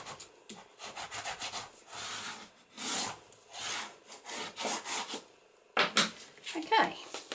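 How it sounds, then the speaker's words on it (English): Repeated rubbing strokes come from burnishing down the cover of a handmade book with plastic pockets, in short rhythmic bursts of dry friction with pauses between them, and a voice speaks briefly. "I'm going to burnish that down."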